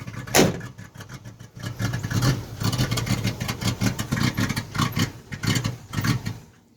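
A Chevrolet Blazer engine runs just after a cold start, a steady close idle with rising and falling revs and uneven, pulsing surges, heard alone without talk.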